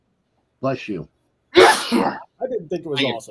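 One sharp sneeze bursts out among casual conversation, loud and brief, with people talking just before and after it.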